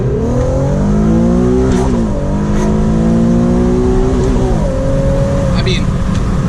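An Infiniti Q50 accelerates hard, its engine climbing in pitch through a couple of rising sweeps with shifts, loud and close inside the cabin, ending in a steady drone.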